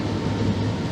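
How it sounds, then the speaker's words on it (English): Low, steady rumble of a train passing close by in Zurich, a continuous heavy drone lasting about a second. "You will hear some trains as just now."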